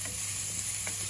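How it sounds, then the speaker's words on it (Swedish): Nettles sautéing in a frying pan for nettle pasta, a steady low sizzle with faint stirring scrapes, close by and alone. "Och får fräsa den lite."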